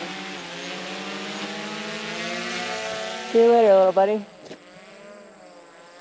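A small mapping drone lifts off for pasture spraying work, its steady propeller whine running loud and close throughout, rising sharply in pitch mid-way as it climbs, while a person speaks over it.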